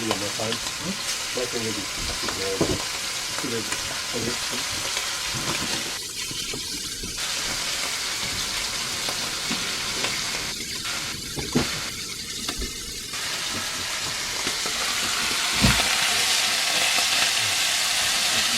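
Deer heart and kidney frying in a hot pan, a steady loud sizzle with a few scraping stirs, continuing throughout without talk.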